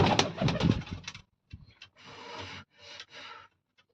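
Soft pigeon coos repeat in short bursts with brief pauses between, fairly close and moderately loud, with no talking.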